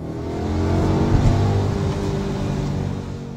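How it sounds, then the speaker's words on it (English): An Audi S5 V8 engine revs up and holds a rising, howling roar, then eases slightly, heard close and loud with no voices. "this engine absolutely howls"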